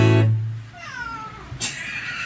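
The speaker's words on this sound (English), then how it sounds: "That's my buddy Oliver, he's a cat. Here he comes." A pet cat meows indoors in a home during a relaxed solo music set, a single close, drawn-out meow following a brief low tone, then a short sharp sound near the end.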